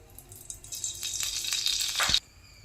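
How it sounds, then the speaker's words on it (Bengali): Fortune sunflower oil hits a well-heated kadai over a gas flame, rising into a close, bright sizzle for about two seconds before cutting off abruptly. "কড়াইতে দিলাম ফরচুনে সানফ্লাওয়ার তেল"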